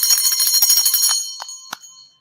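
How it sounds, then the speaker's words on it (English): A bell rings out bright and sharp, a rapid flurry of strikes that thins into two isolated dings before fading to silence. "Ring the bell."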